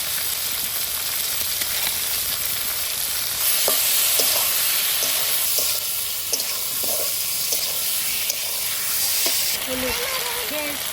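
Tomatoes with cumin, coriander, ginger and green chili fry in a pan for a Bengali rohu fish curry, giving a steady close sizzle with stirring scrapes throughout, while a voice talks intermittently over the cooking.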